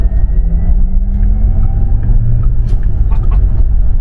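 A Porsche Taycan accelerating to overtake on the road, a loud, steady low rumble with a rising electric whine, heard from inside the car.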